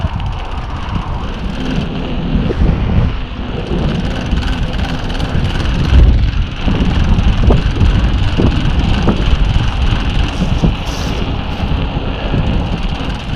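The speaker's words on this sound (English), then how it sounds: "Riding my bike in the state." Steady, loud wind roar buffets a helmet-mounted microphone on a motorcycle riding through Washington State near sundown, with a low engine drone underneath throughout.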